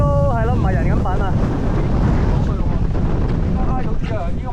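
Strong sea wind buffets a fishing boat heading back in a thunderstorm band, a constant loud roaring rush. Voices and shouts cut in and out over it.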